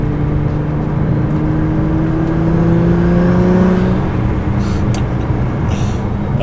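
A Nissan GT-R with added power accelerating gently in third gear under boost, a steady engine drone with a rising turbo induction whine that climbs in pitch for several seconds, then fades as the throttle lifts.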